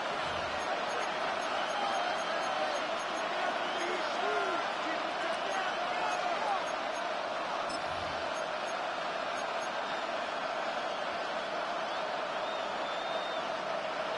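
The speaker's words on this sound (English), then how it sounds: "This crowd urging the defense on." A football stadium crowd roars steadily for the defense late in a close game, a dense continuous wall of cheering noise that never lets up.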